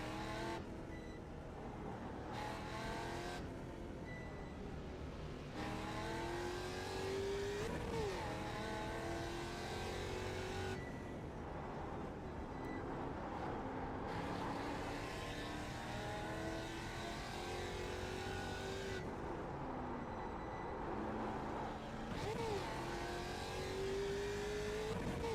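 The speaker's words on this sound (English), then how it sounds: "There's a car approaching." A race car in the iRacing sim, on the Sebring club circuit, in a Move'n Muscle series event, engine roaring steadily with repeated rising and falling revs through gear changes, tires squealing at times as another car approaches and passes close by.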